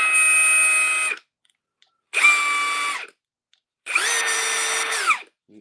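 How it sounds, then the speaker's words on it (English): Milwaukee half-inch square-drive, high-torque impact wrench runs in three close, loud bursts of about a second each, with a steady whine that climbs and falls at each start and stop and short silences between. "Half-inch square ring impact wrench. High torque."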